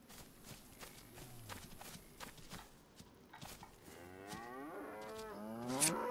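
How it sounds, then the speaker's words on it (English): Cows mooing in the DayZ video game, with a herd lowing at scattered moments; a long, rising moo grows louder near the end over quiet footsteps and light shuffling. "We're in the pack of cows here."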